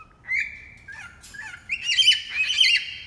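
A person imitates a rainforest bird: several shrill squawking, chirping calls rising and wavering, close and fairly loud, with no talking.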